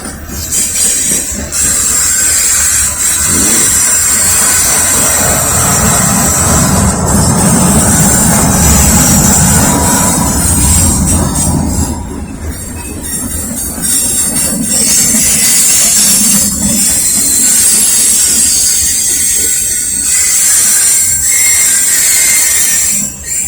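A Norfolk Southern freight train carrying trash and intermodal cars rolls past close by, with a continuous loud rumble of wheels on rails, metallic clatter and high squealing throughout.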